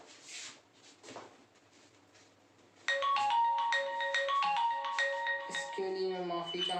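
A mobile phone ringtone breaks in loud and melodic, a repeating electronic tune that keeps ringing, after a stretch of a man lecturing quietly.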